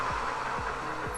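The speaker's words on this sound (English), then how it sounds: "So I'm gonna switch on the lathe, and the chuck's gonna spin." A lathe runs with its chuck spinning while brass is being tapped, giving a steady close hum with a low rhythmic throb repeating about twice a second.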